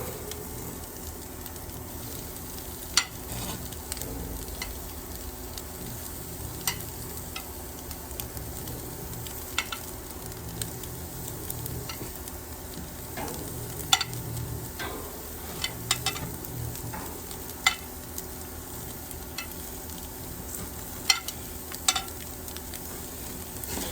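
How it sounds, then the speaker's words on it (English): Octopus sears on a hot grill, a steady low sizzle with scattered sharp pops and crackles across the stretch, no voices. "Now you want about 3 minutes on the side to get that nice char."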